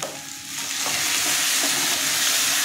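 Chilli, cumin and coriander powders with oil fry in a pan for a soybean and potato curry, a loud steady sizzle that swells and holds throughout, with faint stirring scrapes and no talk.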